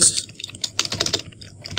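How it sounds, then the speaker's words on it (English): Clicky keystrokes on a mechanical keyboard patter in quick irregular bursts, close and fairly loud, with no voices. "Sorry if you can hear my keyboard."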